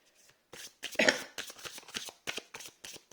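Tarot cards are flipped and handled on a table in a quiet room, giving a quick run of soft, close papery slaps and shuffles in uneven bursts.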